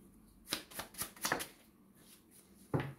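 Fortune-telling cards riffle and slap in several quick shuffling bursts, then a card is drawn and placed, close and fairly crisp with no talking.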